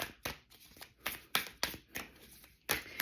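A deck of cards is shuffled close by in a quiet room, with a string of soft, quick riffling bursts and brief pauses between them, and no voices.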